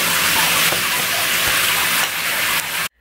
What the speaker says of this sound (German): auf jeden Fall werde ich jetzt Lina baden, das Wasser wird vertrocknen